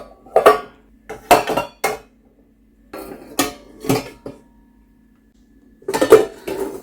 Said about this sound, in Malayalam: അതിൻ്റെ മുകളിലേക്കായിട്ട് നമ്മൾ കഴുകി മാറ്റി വെച്ചിരിക്കുന്ന പാത്രങ്ങൾ ഓരോന്നായിട്ട് നമുക്ക് കമഴ്ത്തി വെക്കാം